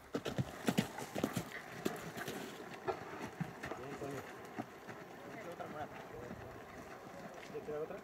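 Horse hooves clip-clop steadily on hard ground at a charro rope event with manganas on foot, a young horse moving at an irregular pace amid crowd noise and background voices.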